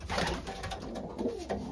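Racing pigeons coo softly in a loft, a short, low, throaty burble that rises and falls over about two seconds.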